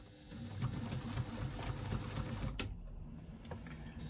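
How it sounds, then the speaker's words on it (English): A sewing machine stitches a second reinforcing line along a garment side seam, its fast rhythmic needle chatter running steadily and fairly quietly at close range, briefly easing near the end, with no speech. "now I'm just going to go back and do my second line of stitching for security"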